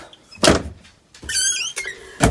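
A pantry drawer in a home cellar is pulled open, giving a few loud, close sliding scrapes with a squeaky edge and dull thunks, separated by short pauses, with no talking.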